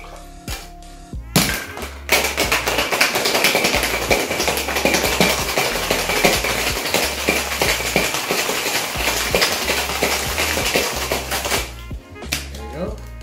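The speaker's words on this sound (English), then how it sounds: "Let's go to hard shake." Cocktail shaker tin hard shaken with ice, a dense, loud, continuous rattling of cubes against metal for about ten seconds, with brief clinks before and after.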